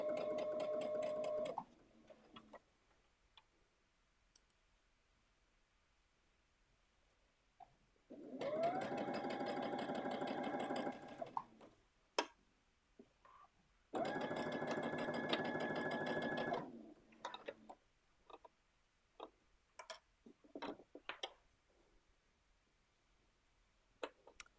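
A sewing machine bastes fabric at a slowed speed, running in three distinct whirring bursts separated by quiet pauses, with light clicks and handling noises in between.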